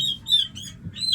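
Young chickens on a farm give high, thin chirps, three or four short peeps in quick succession over low background rumble, close and moderately loud.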